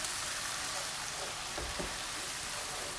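Chopped tomatoes go into browned onions frying in oil, giving a steady, dense sizzle throughout. Partway through, a couple of soft thuds and stirring sounds cut in.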